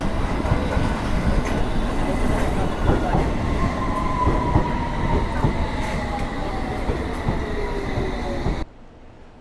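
A London train running toward Hammersmith rumbles steadily with clattering wheels and a faint rising squeal, loud and close from inside the carriage, before cutting out abruptly near the end.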